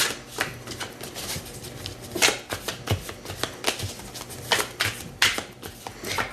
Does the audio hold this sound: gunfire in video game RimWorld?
no